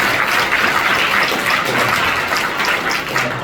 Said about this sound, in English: I do want to ask everybody to give a round of applause to all the employees